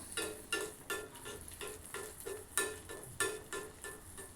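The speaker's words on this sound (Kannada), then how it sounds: "ಒಂದು ಸೌಟು ಹಿಟ್ಟನ್ನು ಎಣ್ಣೆಗೆ ಬಿಡಬೇಕಾಗತ್ತೆ" Malpua batter frying in oil, a close bubbling sizzle that swells in a regular pulsing rhythm about twice a second, with no talk.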